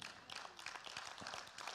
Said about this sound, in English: Clap your hands for that.